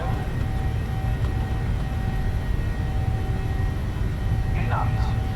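Engines of a PMDG 737-700 in a flight simulator game spool up to takeoff power, giving a loud, steady jet roar with a faint high whine. A brief voice cuts in near the end.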